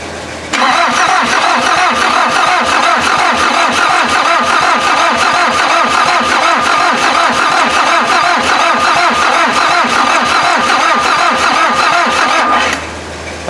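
A Volkswagen diesel engine fitted in an offroad Mazda is cranked continuously by its starter, a loud, even, rapid chugging rhythm that runs for about twelve seconds without firing, then abruptly stops.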